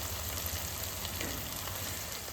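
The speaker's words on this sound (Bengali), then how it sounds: "তেলটাকে ভালো করে গরম করে নেবেন তারপরে লো ফ্লেম করে দেবেন আস্তে আস্তে চিকেনটা ভাজা হবে" Chicken frying slowly in well-heated oil over a low flame, a steady, close, even sizzle and crackle that holds without pause from start to finish, with no voices.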